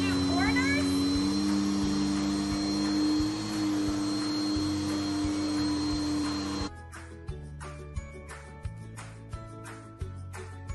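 A Bissell CleanView bagless upright vacuum cleaner runs with its turbo brush attached, giving a loud, steady motor whine and hum that shifts abruptly partway through into a lower drone with rapid clicking and rattling.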